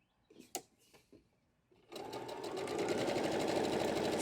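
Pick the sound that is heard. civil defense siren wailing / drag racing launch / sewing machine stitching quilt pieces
sewing machine stitching quilt pieces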